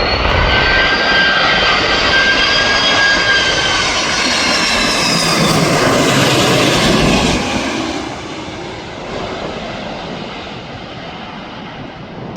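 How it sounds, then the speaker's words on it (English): A Turkish Airlines Airbus A330 landing at Manchester Airport roars past loudly, with jet engine whine sweeping in pitch as it nears, then the noise eases into a lower rumble as it rolls away. "Guess what? Turkish Airlines A330."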